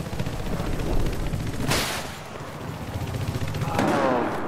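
Shotgun fire in the video game Battlefield 4 during a Siege of Shanghai conquest match, a few sharp blasts standing out from a dense, noisy battle mix of gunfire and explosions.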